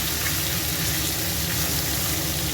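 Fish frying in a pan and being turned, giving a steady, close, dense hiss and sizzle that holds even throughout with no talking.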